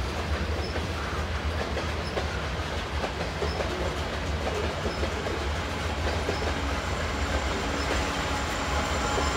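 A CN freight train rolls steadily past nearby with a tail-end distributed power locomotive, giving a continuous loud roar of rail cars with rhythmic clickety-clack wheel beats throughout.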